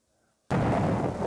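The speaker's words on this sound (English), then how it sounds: "Explosion in lower deck." An explosion in the lower deck of the Atari ST game B Squad bursts in suddenly after near silence, becoming a loud, sustained crackling roar.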